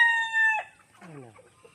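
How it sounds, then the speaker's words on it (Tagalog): A rooster crows loudly up close with a long, steady call, then fades into softer clucking and chatter from chickens. "Ganda ng mga manok natin."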